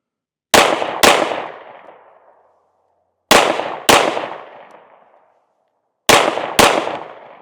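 Pistol shots from an Echelon 4.0C or Glock 19 Gen 5, fired as three quick double taps spaced a few seconds apart. Each sharp, loud crack is followed by a fading echo tail, with no talking.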